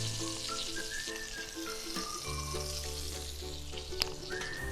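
A grilled cheese and spinach sandwich fries in plenty of butter in a pan, giving a steady close sizzle with a lower rumbling crackle that swells partway through, heard alone without talk.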